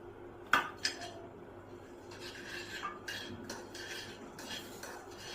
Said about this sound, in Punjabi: ਇਹ ਗੁੜ ਨੂੰ ਚੰਗੀ ਤਰ੍ਹਾਂ ਆਪਾਂ ਹਿਲਾਉਂਦੇ ਰਵਾਂਗੇ ਜਦੋਂ ਤੱਕ ਗੁੜ ਪੂਰੀ ਤਰ੍ਹਾਂ ਗਰਮ ਨਹੀਂ ਹੋ ਜਾਂਦਾ